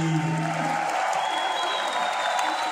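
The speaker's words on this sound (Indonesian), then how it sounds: "Berikan tepuk tangan yang meriah untuk pembicara kita yang sangat luar biasa pada siang hari ini" Lively audience applause for a guest speaker at a university seminar on big data in cyber security: dense, continuous clapping from a crowd with a faint cheer, filling the room without a break.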